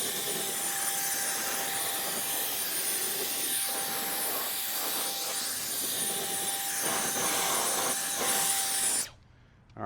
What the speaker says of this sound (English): run the blower on it.